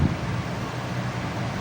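Strong wind buffets the microphone outdoors on a fishing trip at Wawa Angon, a steady loud rumbling roar throughout with no other clear sounds.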